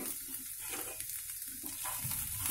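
Spices and dals fry in a pan for a quick curry, a faint, steady sizzle with soft stirring that stays gentle and uninterrupted throughout.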